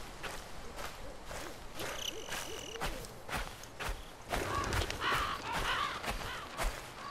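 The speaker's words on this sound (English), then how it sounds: "Wow, those birds are really ticked off." Agitated birds caw and hoot repeatedly at night in the video game Slender: The Arrival, against a noisy backdrop, with rhythmic thudding like footsteps running through the scene.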